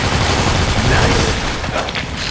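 Rapid bursts of gunfire from a zombie shooter video game, dense and continuous at close range with a heavy low rumble throughout.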